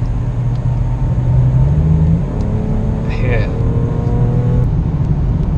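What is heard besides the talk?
Audi RS4 accelerating on German Autobahn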